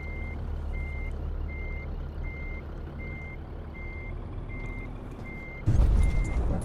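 Truck with a 24-ton trailer reversing in the game Euro Truck Simulator 2: a steady low engine idle carries evenly spaced reversing beeps, about one every 0.7 seconds, before a sudden louder rumble bursts in near the end.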